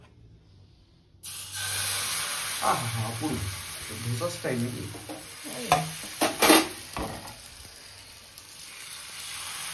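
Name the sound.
semolina pancake (chilla) batter sizzling in a hot pan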